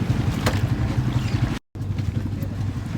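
Small outrigger boat heading out to sea at high tide, a close, steady low engine throb with wind buffeting the microphone, cut by a brief dropout midway.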